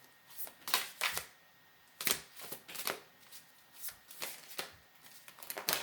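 A deck of tarot cards being shuffled in repeated quick riffles and flutters, close and crisp, with short pauses between bursts and no voice.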